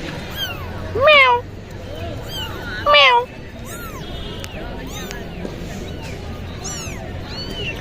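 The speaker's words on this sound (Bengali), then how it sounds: "অনেক সুন্দর বিড়াল চমৎকার বিড়াল" A cat meows twice in short, rising calls against a busy background of chirping birds and low chatter, with people talking nearby throughout.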